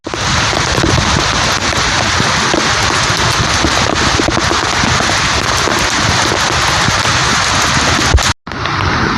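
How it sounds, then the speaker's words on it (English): Heavy storm rain pours outdoors as a loud, steady broadband roar with gusty wind buffeting the microphone, continuous throughout with one brief dropout near the end. "Rain's coming down."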